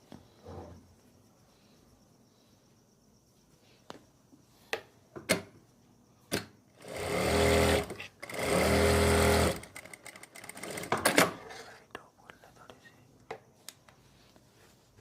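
Sewing machine stitching pleats into the front of palazzo pants, two loud bursts of running stitches between scattered clicks and handling taps in a quiet room.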